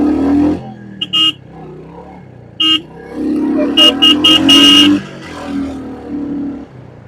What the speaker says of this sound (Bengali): হরেনটা একটু কম, হরেনের সাউন্ডটা আই থিঙ্ক আর একটু যদি বেশি হইতো আই থিঙ্ক বেস্ট